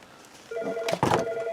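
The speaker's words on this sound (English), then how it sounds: "And of course my phone will ring." A phone rings indoors in a workshop where a broken Amiga 3000 is being repaired, a short electronic ring tone heard close and moderately loud, with no talk.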